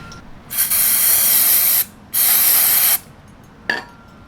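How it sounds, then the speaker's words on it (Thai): Cleaning fluid sprayed from an aerosol can onto the sprocket hub of a Yamaha SR400 motorcycle: three close hissing bursts, two long and steady, then a short final puff, loud and with no talking. "แล้วฉีดน้ำยาตรงไปเลยได้ไหม"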